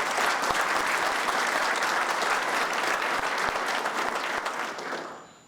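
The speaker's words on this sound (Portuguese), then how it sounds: "Uma salva de palmas, por favor" Applause fills a formal solemn ceremony hall, dense and steady clapping from a large audience that fades out at the end.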